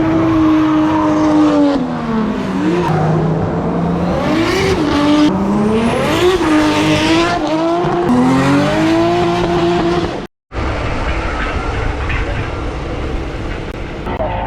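Race cars drift around the Mondello Park circuit, engines screaming and rising and falling in pitch as they slide through corners, loud and close, with tire squeal, a brief cutout, then rougher engine roar.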